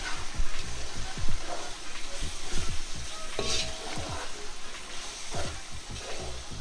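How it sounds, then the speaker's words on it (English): Spinach chicken curry (palak chicken) sizzles and fries on full heat in a pan, with repeated stirring scrapes and soft clinks over a steady crackle, close and moderately loud. "let it all saute properly together, let it all fry, let it all simmer"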